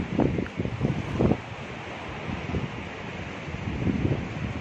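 Wind gusts across the top of a coastal fort with the sea on both sides, a steady roaring rush with buffeting on the microphone and the low wash of surf beneath it.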